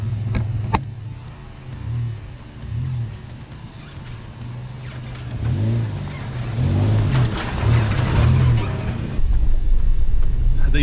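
A third-generation Toyota 4Runner rumbles through dirt whoops, its engine droning low with rhythmic surges, thumps and rattles from the suspension as the cab rocks over the bumps.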